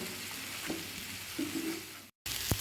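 Chicken for chilli chicken sizzles and is stirred through sauce in a pan, a steady close frying hiss with a few soft scraping stirs and one brief gap in the sound.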